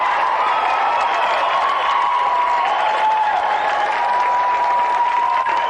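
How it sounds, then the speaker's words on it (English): Studio audience applause greeting guest Tony Slattery on a 1992 GamesMaster TV show: dense, steady clapping with some cheering throughout, loud and close, with a faint sustained tone running beneath it. "Round of applause, please, for tonight's special guest"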